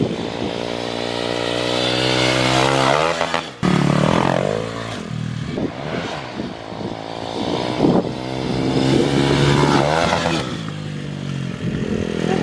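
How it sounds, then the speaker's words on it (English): Kawasaki KLX351 stage 3 dirt bike on off-road OHV trails, engine screaming up against the rev limiter in loud, sustained high-pitched bursts with brief drops and stutters, close by. "He's getting that rev limiter though."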